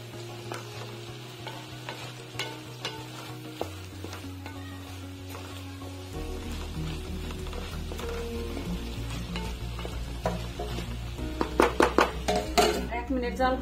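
Beans stir-fried with coriander leaves sizzle in a pan under a spatula's scrapes and occasional metal clinks. The pace picks up near the end with quick clattering knocks, and a voice talks intermittently over it.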